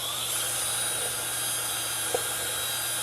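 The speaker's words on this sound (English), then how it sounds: "So let me just attach the drill." A power drill whines steadily at close range while drilling a hole, holding a constant high-pitched drone throughout with a brief faint click near the end.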